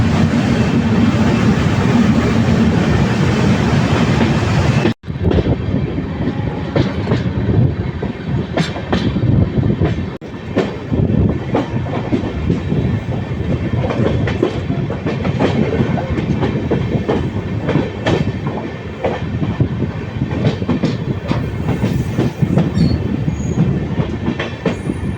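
The Tebhaga Express, a Balurghat–Kolkata service running with LHB coaches on its first run near Farakka, rolls steadily on the rails. A loud, continuous rumble carries rhythmic clickety-clack over the joints and occasional wheel squeal, with a brief cut early on.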